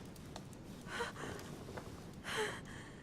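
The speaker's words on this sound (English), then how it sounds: "Her breathing is becoming stable and" A woman character in a video game breathes in two audible gasping, heavy breaths a little over a second apart, faint and close, with no talk.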